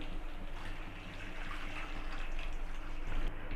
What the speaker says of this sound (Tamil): இது கூட ஒரு ரெண்டு கப் தக் தண்ணி சேர்த்துப்போம்